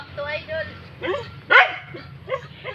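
A native Filipino askal dog yips and barks in short bursts at a rural provincial home, mixed in with people talking nearby.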